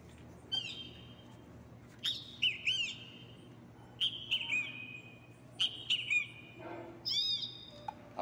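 Great kiskadee (cristofué) calls ring out in clear, close bursts, several separated phrases of bright, strident notes recurring every second or two against quiet background with no speech.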